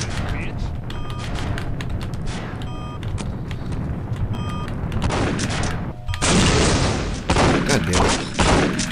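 A rocket launcher firing missiles in the shooter Postal 2, loud bursts of firing and impacts building toward the end, with someone talking over the game action.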